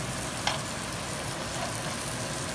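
Koli-style fish frying in a pan gives off a steady, close sizzle, with one brief soft tap as a piece is flipped.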